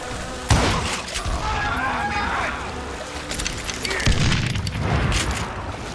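Gunfire in the Western shooter Call of Juarez Gunslinger: loud, rapid bursts of shots and booming reports, with heavy echoing blasts, while someone talks over the fight.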